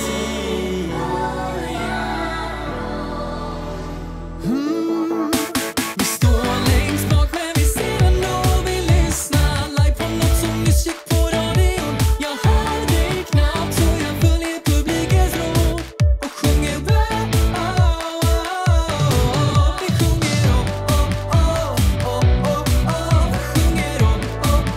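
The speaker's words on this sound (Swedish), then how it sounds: "det jag tänkte fokusera på idag är de här gitarrerna som ligger i refrängen" Tight, hard-panned pop guitars drive a song chorus as part of a full mix, playing steady rhythmic strums after a short intro and continuing loud and dense throughout.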